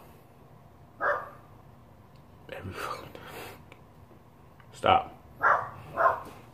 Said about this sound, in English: just ignore the dog in the background.